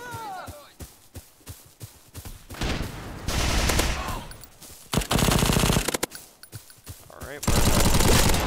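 Rapid bursts of automatic gunfire and single shots come from a browser shooting video game, loud and close, in clusters of sharp cracks and sustained volleys, with a voice talking between them.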